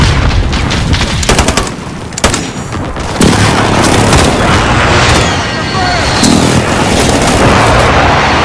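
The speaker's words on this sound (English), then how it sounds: "Allied precision airstrike incoming" A precision airstrike in Call of Duty: Modern Warfare multiplayer, Team Deathmatch on the Hardhat map, sets off loud, close booms and rumbling blasts that blend with gunfire and combat noise, while in-game voices call out.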